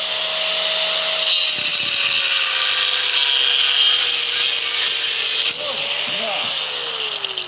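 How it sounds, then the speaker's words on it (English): An angle grinder cuts metal on a forge door with a continuous loud high-pitched whine that shifts pitch as the disc fails and breaks apart partway through. A brief thud is heard and the grinding carries on. "Grinder disc. Just kind of detonated a little bit."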